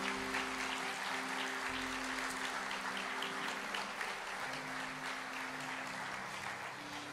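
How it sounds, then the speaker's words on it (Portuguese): Church congregation clapping in praise during a worship service, a soft, continuous patter of many hands with a faint sustained musical tone underneath, distant and low in level. "Quero te convidar a uma salva de palmas para Jesus."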